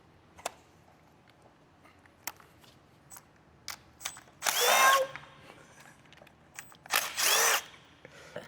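A power tool backs out 10mm bolts on a Honda K20C1 engine being prepped for an S2000 swap. Two short, loud whirring bursts stand out over quiet clicks and handling noises.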